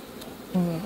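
Agitated honeybees buzz at an opened hive during a honey-super check, a low droning hum that swells suddenly louder and closer halfway through the brief moment.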